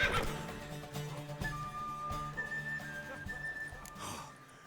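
A horse neighs with a rising whinny over faint background sounds and soft hoof clops, fairly quiet overall, in the video game The Witcher 3: Wild Hunt.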